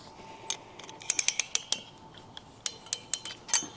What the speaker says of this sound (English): use our 15 millimeter Craftsman wrench